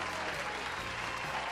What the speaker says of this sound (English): Let's have a round of applause for our guests.